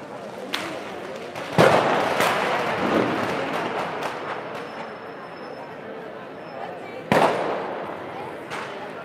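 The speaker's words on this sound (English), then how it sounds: "everywhere that you walk at the moment, there are just fireworks banging and burning" Fireworks and firecrackers bang in the streets during the Fallas festival in Valencia, with sharp loud reports near the start and again later, over a constant bustle of crowd noise and voices.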